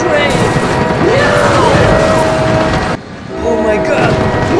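Train smashing into a truck in the BeamNG.drive driving game, with loud rumbling rail noise and tonal squeals, a sudden drop then a rebuild of grinding, and an excited voice shouting over it.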